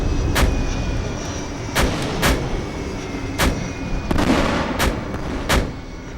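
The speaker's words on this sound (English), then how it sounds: "an anti-aircraft locating device is used with 88mm artillery weapons" 88mm anti-aircraft artillery weapons firing near Dortmund, a series of sharp, loud blasts spaced unevenly over a constant rumbling background, with about seven distinct shots close by.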